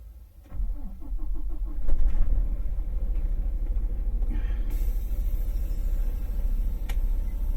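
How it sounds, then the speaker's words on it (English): Truck engine starting: a brief crank, then the engine catches and settles into a loud, steady close-up rumble that continues idling to the end. "get the truck started"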